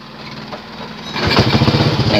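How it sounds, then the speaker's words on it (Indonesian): An old Honda Supra X motorcycle engine with a gear-jumping fault runs at idle, then the note rises and pulses louder as a gear is engaged, a close, buzzy single-cylinder sound with no voices. "Nah, ini posisi mesin sekarang sudah hidup, teman-teman"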